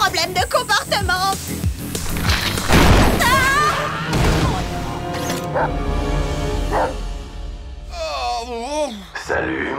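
Cartoon dogs bark and yip in a busy, loud burst at a dog show contest, with excited voices and music-like tones mixed in throughout.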